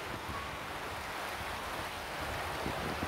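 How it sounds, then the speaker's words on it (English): Moderate wind moving through an old growth forest in Bitterroot National Forest near Lost Horse Creek, a steady broadband rushing roar with gentle swells and no voices. "the wind since I've been here has been mild to moderate. Today it's moderate."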